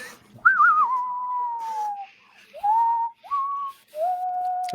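Melodic whistling drifts through as background music from a Western band, several sustained gliding phrases with short gaps between them, fairly clear and with no talk over it.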